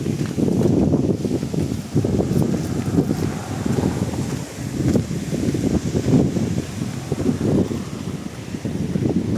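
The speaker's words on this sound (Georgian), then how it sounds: "თორე ამ ქარის ხმაში არაფერი არ იქნება." Strong wind buffets the microphone outdoors during a walk along the Segura River, a loud, continuous low rumble that surges and dips over several seconds with no other clear sound.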